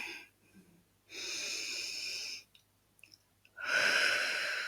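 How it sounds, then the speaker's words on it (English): One person takes a slow, deep breath in and lets it out, two long, close, airy breaths separated by a short quiet pause. "Deep breath in."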